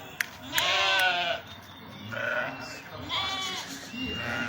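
Fattening sheep bleat several times in short, wavering cries, close by, while someone talks over them.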